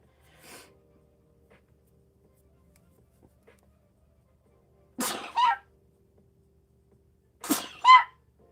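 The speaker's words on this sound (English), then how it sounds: "I'm going to sneeze again." Two loud, sharp sneezes burst out close by, several seconds apart, each with a quick inhale and explosive release, against near silence.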